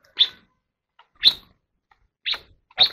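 A caged crested songbird gives four short, sharp, high chirps, each about a second apart, close to the listener in otherwise quiet surroundings.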